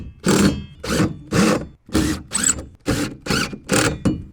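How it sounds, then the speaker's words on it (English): Ratchet tightening the bracket bolts of an Integral Boxlink mount on a 2015-and-up Ford F150, heard as nine evenly spaced bursts of rapid clicking, each about a third of a second long, close and fairly loud, with no talk. "we're going to tighten it up about 2/3 of the way so it does have room to move back and forth"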